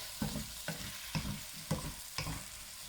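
Chicken drumsticks with lemon, garlic and ginger frying in a pan while being stirred, with five regular scraping stir strokes over a steady close sizzle.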